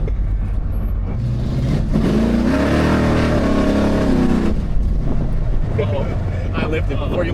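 A car with a stock 400 engine over 40 years old revs up hard, its engine note climbing and swelling for a few seconds before easing off, heard from inside with steady wind and road rumble throughout.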